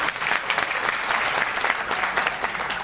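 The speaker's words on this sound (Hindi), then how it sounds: "इनके लिए जोरदार ताली।" Sustained applause from a crowd at a Hindu gathering, dense and steady clapping filling the whole stretch without a break, moderately loud and even.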